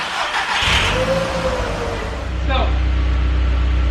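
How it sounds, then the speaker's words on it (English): An Audi 3.2 engine turns over and runs on a jacked-up car, its steady mid-low rumble rising with a revving swell near the start, while someone speaks briefly over it. "I'm gonna start it up, put it in drive, and I believe all wheels should be spinning"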